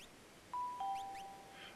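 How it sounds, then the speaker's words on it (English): A two-tone doorbell chime rings out clearly, a higher ding followed by a lower dong that lingers and fades over a quiet background. "And what was that? Ding dong. I heard a ding dong."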